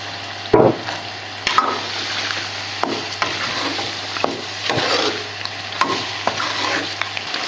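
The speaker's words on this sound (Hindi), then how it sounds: "तो अच्छे तरीके से भुनाई के बाद ही इसमें 1 कप दही का ऐड कर देंगे।" Yogurt goes into mutton frying in a pot for tende gosht, giving a steady close sizzle broken by scraping stirs and a few sharp knocks of a spoon against the pan, with no talking.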